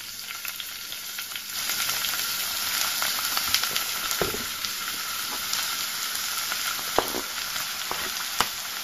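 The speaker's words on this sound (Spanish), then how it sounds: "en un cazo con un chorrito de aceite de oliva, pondremos a pochar nuestra cebolla picada y nuestro puerro" Chopped onion and leek soften in a splash of olive oil in a saucepan, giving a steady close sizzle with scattered crackles and stirring scrapes, no voices.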